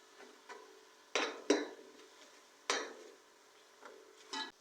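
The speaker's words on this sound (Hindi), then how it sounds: "2 टेबल स्पून इसमें पानी शामिल करके इसको भून लेते हैं" Chicken being roasted with water and yogurt in a pan makes faint sizzling, with a few sharp clinks of a utensil stirring against the pan at irregular intervals, close and quiet.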